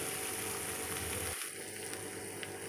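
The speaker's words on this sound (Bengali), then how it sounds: "আলু পেঁয়াজ তেলের সাথে বেশ ভালো করে নাড়াচাড়া করে মিশিয়ে নিচ্ছি" Potatoes and onions sizzle steadily in hot oil as they are stirred in a pan, a continuous close frying hiss with a brief scrape partway through, no voices.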